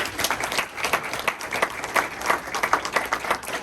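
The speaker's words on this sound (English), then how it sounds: "Round of applause." An audience at a challenge prize event claps in a lively, uneven round of applause, individual hand claps distinct and rising and falling in waves throughout.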